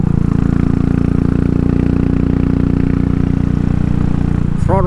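A Royal Enfield Classic 500 motorcycle on a custom fuel map, its engine running loud and close in a steady, unbroken drone with little sign of distinct pops.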